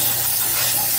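A close, steady hiss of Fluid Film lanolin undercoating sprayed from a can under a car, one continuous burst with nothing else heard.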